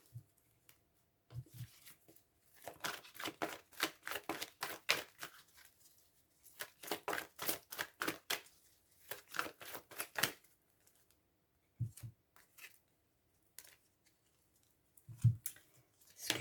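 Tarot cards shuffled and handled in close, quiet bursts of rapid riffling slaps, with pauses between runs and a few soft thumps as cards are set down.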